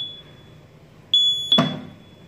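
A fire alarm set off by a manual call point during testing of a fire detection and alarm system gives a steady high electronic tone, then a louder sharp tone with a thump, close by and with no talking.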